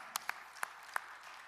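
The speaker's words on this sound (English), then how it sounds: "They can clap for that." A few scattered hand claps from a church congregation, four or five sharp isolated claps spaced irregularly over a quiet room tone, faint and sparse.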